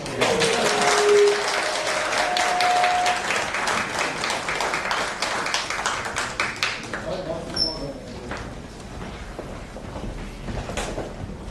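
Audience applause at a university business forum, loud and dense at first, then thinning into scattered claps and room noise with a few knocks and shuffles toward the end.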